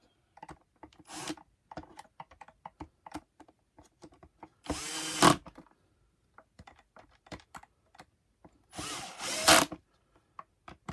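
A power drill drives screws into a Vax Rapid Power Plus carpet washer, model CWGRV021, in two loud whirring bursts, separated by quiet clicks and small handling taps.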